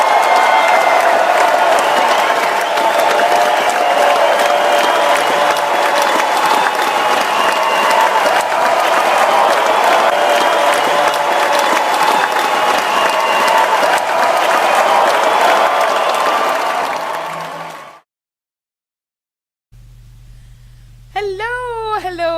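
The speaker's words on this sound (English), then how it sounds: "Everyone, please join me in giving a warm round of applause to welcome her on stage." Loud, sustained audience applause fills a hall as a guest is welcomed onto the stage, the clapping and crowd noise running steadily before stopping abruptly, then a short bit of music or voice follows.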